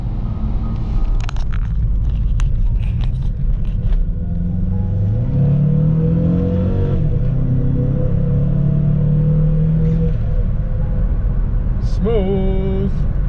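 A beige 2020 Volvo XC60 accelerating, heard from inside as a steady engine rumble that climbs in pitch through a smooth rising rev, loud and continuous with no talk.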